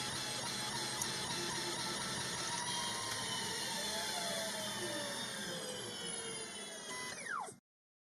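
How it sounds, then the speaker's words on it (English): CNC router converted to a lathe, its spindle turning at constant surface speed while cutting, so a steady mechanical whine with tones that glide up and down as the speed changes, loud and continuous before cutting off near the end. "You may have noticed the spindle speed up or slow down as the diameter changes."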